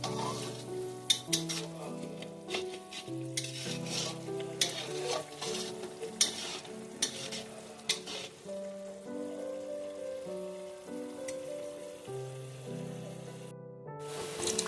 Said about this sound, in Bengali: গ্যাসের ফ্লেমটা হাইতে রেখে আমরা আগে ভালো করে মশলাটা ভেজে নিচ্ছি এবং মিশিয়ে নিচ্ছি।